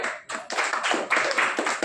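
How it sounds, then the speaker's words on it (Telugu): An audience claps in a lively burst at an ashram gathering, dense overlapping hand claps continuing throughout, close and fairly loud. "అందరూ ఒకసారి క్లాప్స్ కొట్టండి"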